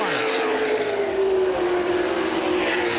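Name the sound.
late model race cars racing at Winchester Speedway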